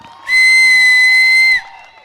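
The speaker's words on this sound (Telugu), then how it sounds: "కమాన్ క్లాప్స్ విజిల్స్ తో పాటు" A single loud, sustained whistle from the audience at a film audio success event in Vizag, piercing and steady for about a second over faint crowd noise.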